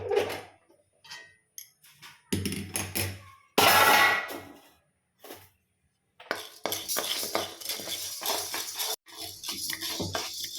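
Chana dal being dry-roasted and stirred in a pan, with bursts of rattling, scraping and clinking as the lentils are tossed with a utensil, separated by short silent gaps, close and fairly loud.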